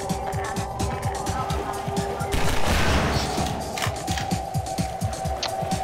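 In the Half-Life 2 video game, an SMG fires in rapid, continuous bursts. The dense mechanical rattle of shots continues throughout, with a louder swell of noise midway through.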